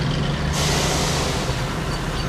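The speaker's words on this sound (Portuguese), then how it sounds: "A estrada ouve, todos os dias, o barulho pesado dos caminhões" Heavy trucks hauling timber rumble along the Trans-Amazonian highway: a loud, continuous low engine drone, broken early by a sharp burst of air-brake hiss that then settles into a sustained rushing noise.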